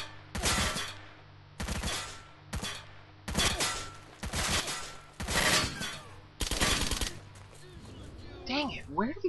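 Gunfire in the video game STALKER: a rapid series of loud gunshot bursts, around eight clustered volleys spread through the clip, with a brief pause between groups and a fading tail at the end.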